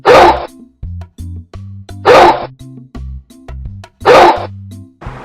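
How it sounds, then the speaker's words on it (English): A toy dog barks in three loud, harsh bursts, each followed by a string of short electronic tones, close and clear with no talking. "Yes, it is a dog."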